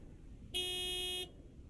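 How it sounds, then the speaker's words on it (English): A big white truck in the video game Lake gives one sustained, clear honk of its horn, lasting under a second against a quiet background. "Big, white, wobbly, and with a honking great horn. Honk, honk!"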